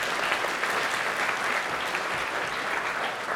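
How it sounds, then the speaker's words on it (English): Audience applauding for event sponsors at a wellness and mindfulness gathering, a dense, steady wash of clapping from a sizable crowd that holds without pause for the whole stretch. "Let's give them a round of applause."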